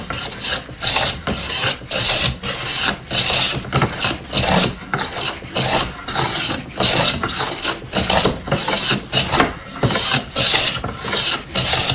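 Japanese hand plane truing a walnut board: rhythmic rasping strokes, roughly a dozen evenly spaced passes, loud and close with no talking.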